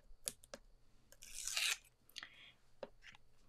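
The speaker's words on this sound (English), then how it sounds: "I need to get some foam tape on the back of this" Foam tape having its backing peeled off for card making, a short, bright ripping rasp in the middle of a few soft clicks and paper handling sounds, close and quiet.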